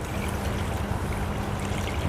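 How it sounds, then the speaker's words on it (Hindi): Water poured into a cooking pot to make yakhni broth for Afghani pulao, a steady continuous rushing pour heard close and alone for about two seconds. "ये जो है यखनी के लिए हमने पानी ऐड कर दिया"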